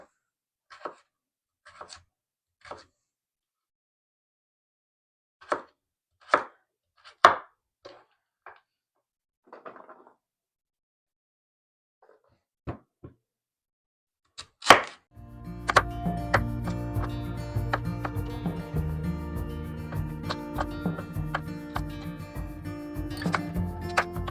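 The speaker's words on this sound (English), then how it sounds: "I'm going to get to chopping this sweet potato up" A knife chops a sweet potato on a cutting board in sparse, sharp, irregular knocks with quiet gaps between them. A dense musical passage then takes over.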